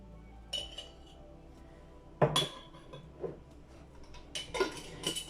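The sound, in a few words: spoon stirring ingredients in glass mason jar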